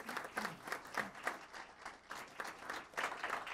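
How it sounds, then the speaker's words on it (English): A modest audience at a city council meeting gives a round of applause, uneven, fairly close clapping that swells and dips in loose waves, with a few voices beneath it. "Let's give him another round of applause."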